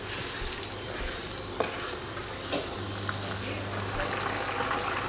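Sliced okra (bhindi) fries in hot oil, giving a steady close sizzle with a faint low hum and a couple of soft clicks, and no one speaks.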